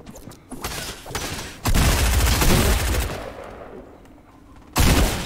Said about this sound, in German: ich hör Schüsse